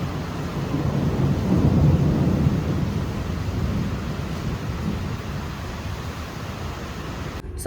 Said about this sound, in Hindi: भाई तो बाहर आंधी आ रही है, बारिश आ रही है